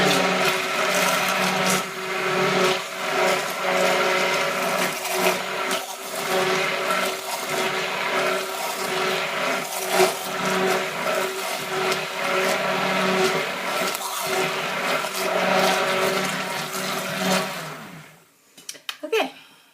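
A blender whirring through a butter sugar scrub, a loud, steady motor drone with a rough churning texture that runs for most of the time, then cuts off abruptly near the end.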